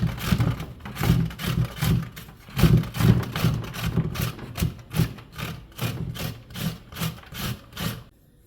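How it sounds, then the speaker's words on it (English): A sharp hand grater shredding coconut, with steady rhythmic rasping strokes about two per second, close and fairly loud, running without pause for about eight seconds and then stopping. "be careful while grating so that you don't injure your fingers. And this grater is quite sharp."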